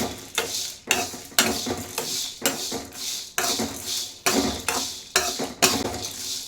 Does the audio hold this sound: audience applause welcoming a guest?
no